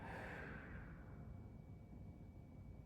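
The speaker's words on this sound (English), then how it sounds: "Nice deep inhale. And exhale." A deep, slow exhale during yoga breathing, a soft close breathy rush that fades gradually over a couple of seconds.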